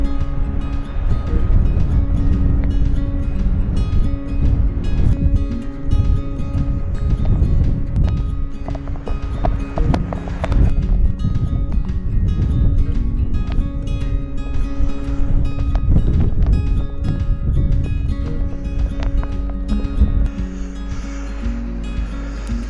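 Strong wind blows outdoors at Keills Chapel in Scotland, a loud, steady buffeting roar with gusty surges that fills the whole stretch, close to the microphone and with no talk over it.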